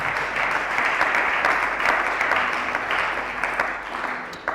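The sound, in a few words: congregation applauding for the Lord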